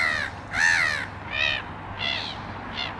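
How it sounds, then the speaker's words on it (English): Black-headed gulls give five harsh, drawn-out calls in an uneven series, fairly close and loud above a faint steady background hum, with no voices. "all black-headed gulls."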